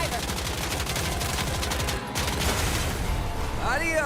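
Rapid automatic gunfire in a video game rattles in a steady, loud burst of evenly spaced shots, pausing briefly midway, then resuming, with a short voice near the end.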